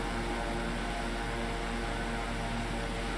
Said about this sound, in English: Trying to relearn the Kodiak without burning out the engine.